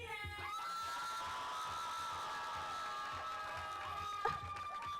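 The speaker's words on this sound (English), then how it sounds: "everybody give a huge round of applause for Miss Medina" An audience cheers and whoops at a tech summit, high excited shouts and calls rising above a crowd roar, with a sharp burst near the end, fairly distant and steady.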